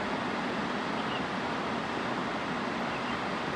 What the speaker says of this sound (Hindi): पानी का जो पत्थरों से टकराना और वाली आवाज़ ना बहुत अमेजिंग है।